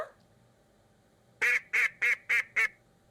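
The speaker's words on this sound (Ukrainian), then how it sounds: "Це качка." Five loud duck quacks ring out in a quick, evenly spaced series after a short quiet stretch, close by.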